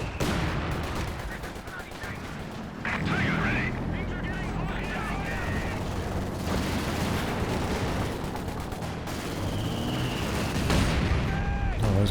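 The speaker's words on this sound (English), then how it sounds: "Oh, those mortars doing some good damage." Mortar fire and explosions from a Company of Heroes 2 strategy battle, with dense overlapping booms and gunfire rumbling continuously beneath a talking voice.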